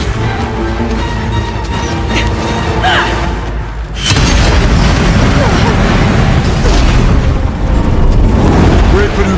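Explosive ammo blasting in the video game Horizon Zero Dawn, The Frozen Wilds: a loud, heavy boom near the four-second mark opens into a sustained rumbling roar and crackle over continuous game background, with voices talking.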